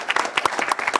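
Applause from a gathering of a Greek cultural association welcoming its vice president, brief, uneven clapping of a modest crowd with distinct individual claps, close and moderately loud.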